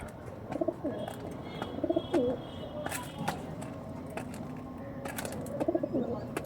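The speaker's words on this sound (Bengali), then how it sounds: "প্রচুর বড় ডানার পায়রা এটা" Large-winged pigeons coo in soft repeated bursts, close by, over a low background rumble with a few sharp knocks and rustles.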